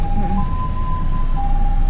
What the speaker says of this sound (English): Look, ambulance.